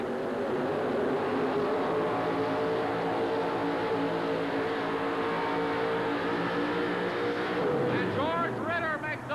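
A Chevrolet pulling truck roars loudly and continuously at full throttle at an indoor truck pull event, a dense sustained engine drone that rises in pitch near the end, with an announcer talking over it.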